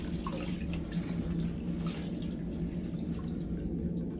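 Water drips and trickles from wet laundry into a sink aboard a cruise ship, a steady close splashing wash with small scattered droplet ticks and no talking.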